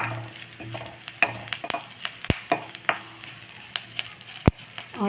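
Urad dal and curry leaves crackle in hot oil, a soft sizzle under sharp irregular taps and clinks of a spoon against the pan, close and fairly quiet.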